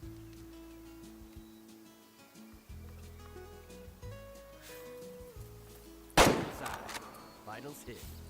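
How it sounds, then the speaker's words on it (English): A single sharp rifle shot rings out at a shooting range in the hunting game Way of the Hunter, set against quiet ambient game music with sustained tones. "Time to zero the rifle."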